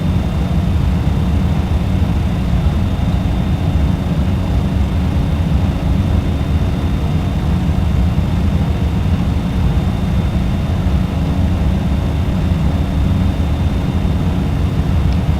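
A Cessna's engine drones in a flight simulator game, a steady, continuous low hum throughout with no breaks.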